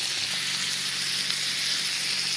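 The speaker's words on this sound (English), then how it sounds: "I wasn't sizzling the bacon as much as I wanted" Steady, bright sizzling of bacon frying in a hot pan, a continuous crackling hiss with no talking.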